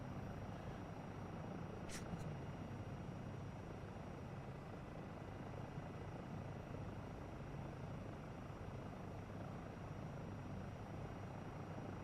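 A Black Hawk helicopter flying in a video game, with a steady, loud rotor and engine drone that holds unbroken throughout and a brief high blip near the start.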